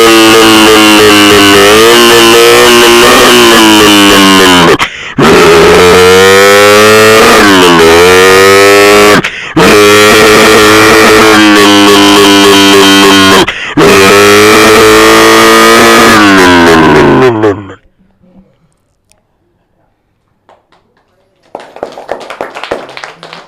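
A voice imitates a Suzuki Samurai motorbike on stage, four long, loud revving bursts with rising and falling pitch and short breaks between, followed by quiet and a faint noise at the end.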